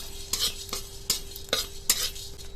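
Whole spices dry-roasting in a hot pan give off sparse crackles and sharp ticks, with a few distinct pops spaced irregularly over a soft, close background hiss; no one speaks.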